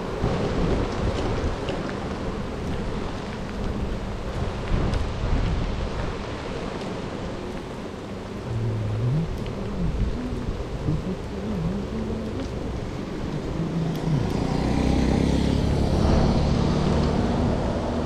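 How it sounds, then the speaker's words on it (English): Pouring rain hisses steadily and loudly during a bicycle ride through a sudden weather change, a dense broadband wash with a low rumble swelling in near the end. "Pouring rain."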